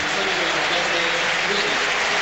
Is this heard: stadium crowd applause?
yes